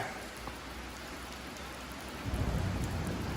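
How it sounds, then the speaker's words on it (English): Steady rain falls outdoors in a broad, even hiss, growing a little heavier toward the end, with no voices. "So since it's just raining and not snowing, we're magnet fishing."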